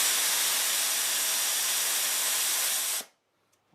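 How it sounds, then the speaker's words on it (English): Compressed air rushes from a Porter Cable air compressor tank as its safety pin is pulled: a loud, steady, close hiss that holds for about three seconds, then cuts off abruptly into near silence. "So I'm going to just pull this pin over here and I'm going to see it drop to 60."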